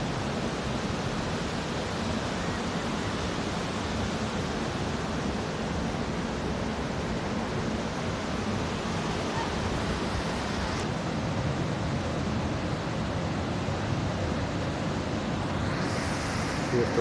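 A waterfall and river at Hønefoss, Norway, pour out a broad, constant roar of rushing water that stays steady from start to finish, with no talking.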